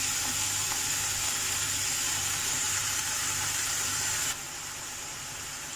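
Vegetables frying in a pan for a chicken and vegetable Russian kebab, giving a steady, moderately loud sizzle that runs unbroken before dropping slightly in level near the end.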